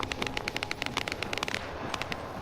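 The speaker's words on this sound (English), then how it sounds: "I'm not sure I like that crackling noise now that you've said it's distant gunfire." Distant gunfire in a video game crackles in quick irregular bursts of faint pops, like cheap fireworks, with no talking.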